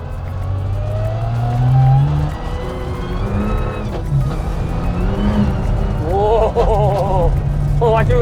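A rally car engine drones and shifts pitch continuously while someone talks over it inside the cabin, the revs rising and falling through gear changes.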